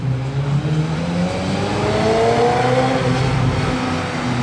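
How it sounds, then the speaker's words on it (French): A Ferrari 355 V8 engine revs and holds a smooth, high-pitched drone, its pitch rising and falling in long sweeps, loud and close with no talking. "Je trouve que ça sonne un peu comme un V12 alors qu'elle a un V8."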